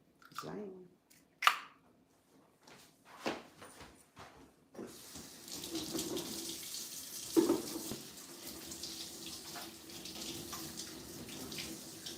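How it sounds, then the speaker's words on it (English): A kitchen tap runs steadily for hands being washed after cracking a bloody egg, a continuous close hiss that starts a few seconds in, with a few knocks and clatters before it. "I'm gonna have to wash my hands"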